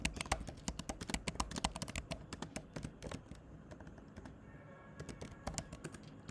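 Code is typed on a computer keyboard, close and quiet, with rapid irregular key clicks in bursts and brief pauses, no voices.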